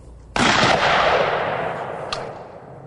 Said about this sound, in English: Its payload consists of magnesium pellets which ignite when shot.